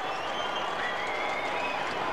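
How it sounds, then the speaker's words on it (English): Stadium crowd at a Mets versus Diamondbacks baseball game cheering and applauding, a steady broad roar of clapping and voices filling the whole stretch at moderate loudness. "Crowd shows some life now"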